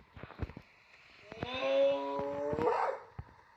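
An odd, synthetic-sounding wolf-like dog howl from the video game Carnivores Ice Age rises and holds for about a second, framed by scattered clicks and short thumps, no talking.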